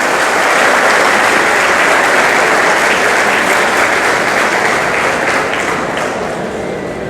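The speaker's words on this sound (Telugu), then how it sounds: "మీ అందరి చప్పట్లతో వాళ్ళందరినీ వేదిక మీదకి ఆహ్వానిస్తున్నాం" A large audience claps loudly and continuously to welcome people onto the stage at a personality development session held by an educational institution, a dense, sustained roar of applause that fades slightly toward the end.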